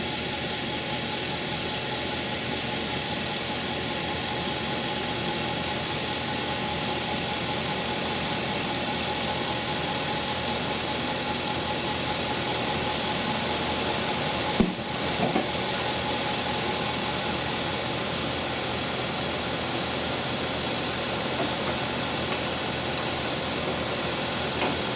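A 2013 Land Rover LR4 engine idling steadily nearby after an oil and filter change, with a constant low hum, broken once by a single short click.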